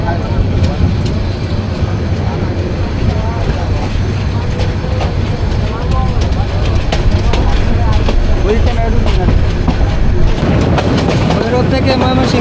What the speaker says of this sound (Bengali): খুব সুন্দর একটা কার্ভ নিয়ে নিছে এখন ট্রেন